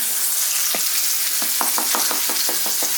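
Sausage and hash browns sizzle in a frying pan with a steady hiss, broken by a quick series of crackling pops that grow busier toward the end. No one speaks.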